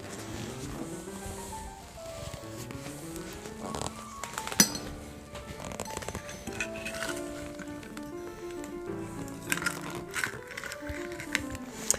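Eggs for scrambled eggs are mixed in a bowl, making rapid clinks and taps of a utensil against the dish under a bed of music.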